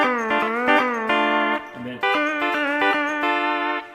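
A sustained steel guitar plays a speed-picking exercise through each position, notes changing every half second or so, bright and ringing with a short gap midway.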